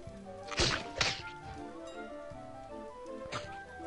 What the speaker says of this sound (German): wie die Kanone feuert. Los geht's.